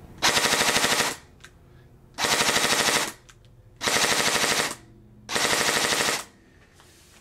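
An airsoft gun fitted with a Burst Wizard King Kong Elite mosfet fires four rapid 10-round bursts, each a loud, close, buzzing rattle about a second long with short pauses between.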